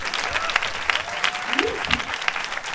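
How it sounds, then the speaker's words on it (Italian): An audience at an open mic comedy night in Bologna applauds steadily, a dense patter of clapping that holds for the whole stretch. "continuate l'applauso."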